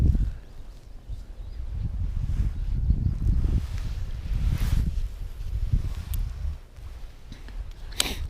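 Steady wind blows and buffets outdoors during trout fishing, a continuous low rumbling roar with gusty swells and no talking.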